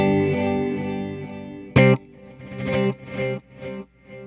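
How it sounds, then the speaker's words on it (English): Encounter ambient delay pedal on a sustained guitar-like tone, a sharp struck note followed by distinct straight delay taps repeating at steady intervals and fading in level, with no talking. "we'll get nothing but those straight delay taps"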